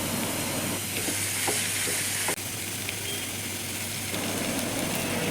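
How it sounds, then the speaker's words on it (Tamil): Crushed ginger and garlic with onions fry for a mutton gravy, giving a steady close sizzle with scattered stirring scrapes and clicks, one sharper knock midway, and no voices. "இஞ்சி பூண்டு தட்டி போட்டு நல்லா பச்சை வாசனை போகிற வரைக்கும் நல்லா கிளறி விடணும்"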